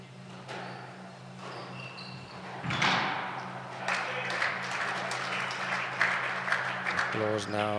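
Spectators at a round-two squash match of the PSA BDO Namibian Open 2024 break into applause that swells after a quiet start and carries on steadily over a low constant hum, with a commentator talking through it.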